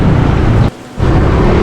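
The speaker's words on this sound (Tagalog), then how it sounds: "Umulan na dito pala oh." Steady, loud rain pours down during a ride along a provincial road outside Quezon City, a dense wash of noise that drops out briefly and then returns.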